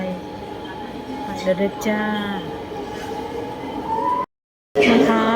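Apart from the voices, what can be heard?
subway train running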